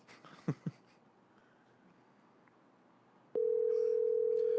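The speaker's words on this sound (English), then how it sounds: "On this episode of Nobody Answers Chad's Phone Call" A phone call goes unanswered: a couple of faint tones and light background noise, then a loud, steady ringback tone starts and holds without break to the end.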